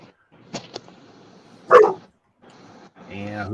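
A puppy gives one sharp bark in the middle, preceded by a couple of short yips, with a person talking briefly at the end.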